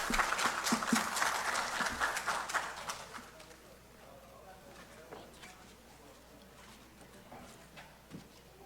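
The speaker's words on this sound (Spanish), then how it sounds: "Le damos la bienvenida a la doctora Negrín con un fuerte voto de aplausos." An audience applauds to welcome a speaker, with a burst of clapping for about three seconds that quickly fades into quiet room noise.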